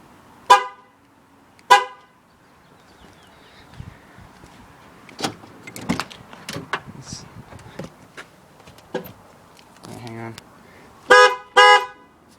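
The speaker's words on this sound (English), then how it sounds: "as soon as you put that high tone horn in, and with the two lows, that's actually quite a bit louder" Multi-tone car horns, one high-tone and two low-tone units freshly wired in, blare in loud short blasts near the start and again at the end, with clicks, door and handling noises between.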